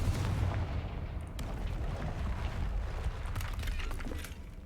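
Spell explosions from Bombarda and Confringo in the Hogwarts Legacy video game, heard as a continuous loud rumble of blasts and booms with crackling debris throughout, no talking.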